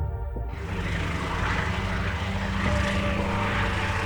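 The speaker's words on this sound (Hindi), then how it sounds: "हेलीकॉप्टर सही समय पर पहुंचता है और टेस्ट शुरू करने का इशारा करता है।" A helicopter flying during a Mars-related test, a loud, steady rotor and engine drone that fills the clip without pause, close and constant.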